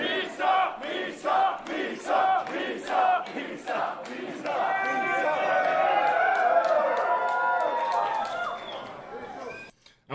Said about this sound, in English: you hear your name being called out in the crowd